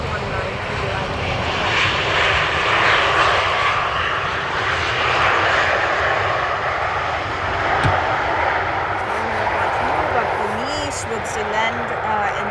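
A Helvetic Airlines Embraer E190 jet arriving from Zurich at Amsterdam Schiphol's Polderbaan gives a loud, steady engine roar, with a voice talking over it.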